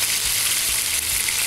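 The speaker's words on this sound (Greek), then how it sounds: "παίρνουμε το κοτόπουλο μέσα στο τηγάνι." Chicken sizzles and fries steadily in a pan for a Greek kokkinisto dish, a loud continuous crackle of hot fat with no talking.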